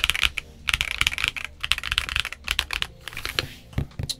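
Typing on a Feker IK65 65% gasket-mount mechanical keyboard whose switches rattle, giving rapid bursts of close, clacky keystrokes with short pauses between runs.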